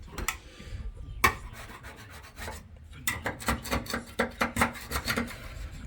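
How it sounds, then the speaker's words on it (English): A scraper works off frozen sound deadening from a car panel after dry ice treatment, giving repeated close rasping scrapes and sharp cracking chips in an irregular rhythm, busier and denser in the second half. "just using a bit of a scraper to get a few bits that are hard to get off"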